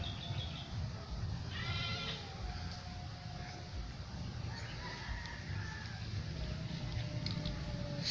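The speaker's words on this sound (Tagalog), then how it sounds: "So yan, may kambing dyan." Goats bleat faintly in an outdoor rural setting, a few wavering calls rising from steady background noise, with a bird and distant voices in the mix.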